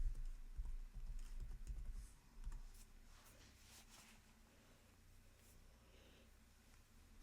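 Quiet bursts of computer keyboard typing, quick and close at first, then fading into faint room tone.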